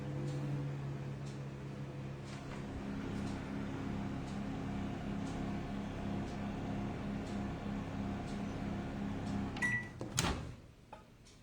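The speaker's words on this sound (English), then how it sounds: "I'll take it into the microwave and microwave for 5 to 10 seconds" Steady low mechanical hum with a faint whir from a microwave oven melting gelatin, continuous throughout, ending in a sharp clunk near the close.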